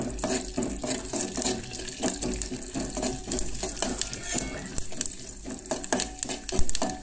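Mustard seeds spluttering and crackling in hot oil in a home kitchen, with a dense run of sharp pops and hiss throughout, while a voice speaks over it.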